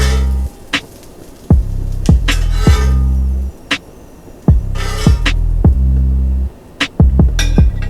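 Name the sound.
Canadian bacon removed from griddle onto plate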